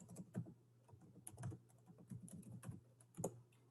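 Keys clicking on a computer keyboard while text about apples is typed into a text box in Google Docs, a steady run of close, quiet taps with small pauses between bursts.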